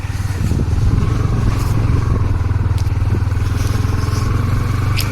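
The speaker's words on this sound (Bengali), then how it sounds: "এটাতে বাইক আসছে কিছু" A motorcycle engine rumbles steadily and close on a dark, cold rural road near a camp in Purulia, a continuous low puttering throb with faint clatter and no talking.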